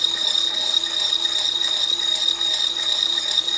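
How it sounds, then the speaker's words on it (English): Pastry cream with cornstarch whisked in a bowl by a powerful electric mixer, a steady high-pitched motor whine with a constant mechanical buzz running unbroken and fairly loud throughout. "We are whisking this until there are no lumps."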